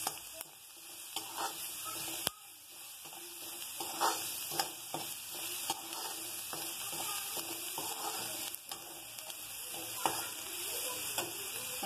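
Radish with turmeric and salt fries in a pan, a close continuous sizzle broken by sharp clinks and stirring scrapes, moderately quiet with no talking.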